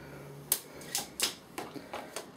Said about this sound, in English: Now I'm going to unwrap it.